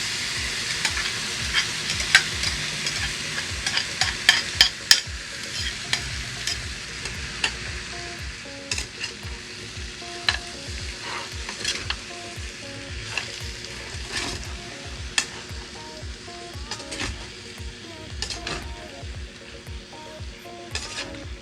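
Drained canned tuna with potatoes is sautéed in a pan, giving a continuous sizzle broken by frequent scraping and clinking strokes of a utensil stirring against the metal, close and steady with no talking.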